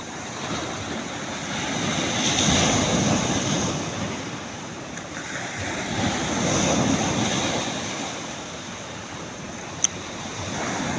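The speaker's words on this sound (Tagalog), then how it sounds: "grabe yung alon" Large sea waves surge and break against the shore in rough, windy weather, a continuous roaring wash that swells and recedes in slow cycles, with wind buffeting the microphone and one sharp click near the end.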